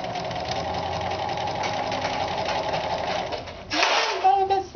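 A home sewing machine runs a seam on a fabric head covering veil, stitching forward and then in reverse: steady close whirring that shifts near the end into a few sharper mechanical bursts and clatters.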